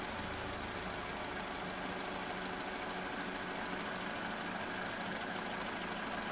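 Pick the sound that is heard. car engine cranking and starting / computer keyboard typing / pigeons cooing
car engine cranking and starting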